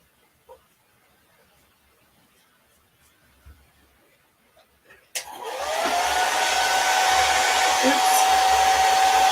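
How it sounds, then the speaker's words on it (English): After a few quiet handling clicks, a hair dryer switches on abruptly and blows with a loud, steady roar and a high whine. "Pull out my hair dryer."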